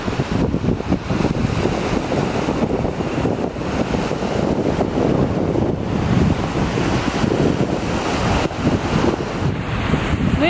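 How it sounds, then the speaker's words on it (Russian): Strong wind roars and buffets the microphone by the sea, with surf rumbling steadily underneath and no one speaking. "Тут, наверное, очень сильный ветер."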